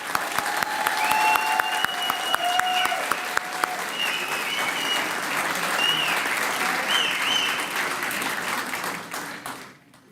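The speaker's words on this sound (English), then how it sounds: "Let's give our graduates one more round of applause." A large crowd applauds continuously at a graduation ceremony, dense clapping sustained for several seconds before fading out, with a few faint voices mixed in.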